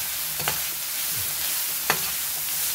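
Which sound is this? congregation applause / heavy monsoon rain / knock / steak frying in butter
steak frying in butter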